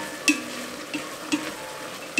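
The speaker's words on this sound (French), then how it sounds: "on ajoute 3 gousses d'ail émincées et un oignon. Et on fait revenir à peu près 5 minutes ensemble" Minced garlic and onion sautéing together in a pan, a soft continuous sizzle punctuated by a few sharp utensil clicks against the pan, heard alone without talk.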